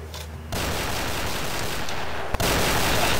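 Sustained heavy gunfire in a war movie trailer, a dense roaring barrage of shots that begins suddenly, with a sharp cut partway through before it continues.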